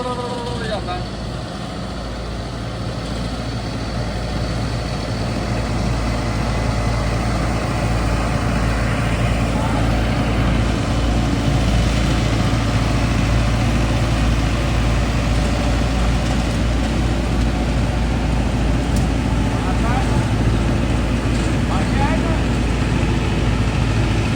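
A tractor pulling a super seeder works a field being readied for berseem, its engine droning loud and steady with rough rattling over stones in the soil, while someone talks over it throughout.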